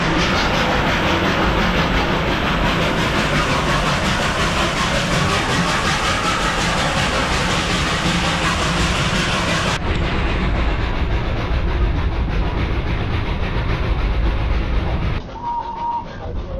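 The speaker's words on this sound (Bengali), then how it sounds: "এইবার ট্রেন ঢুকে গেছে আমাদের বাতাসিয়া লুপে।" The Darjeeling toy train running on the rails into Batasia Loop gives a loud, continuous rumbling roar with faint clatter throughout, close by, ending in a short quieter stretch, with no speech.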